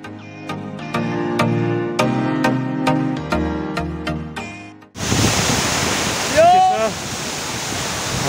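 A river rushes beneath a long footbridge in Nepal's Manang-Mustang mountains, a loud, steady broadband roar of water filling the second half, following a stretch of music.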